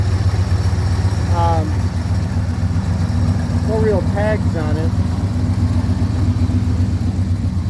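A Ford F-Series truck with an FE V8 idles on bad gas in a yard, a steady low rumble throughout while someone talks over it.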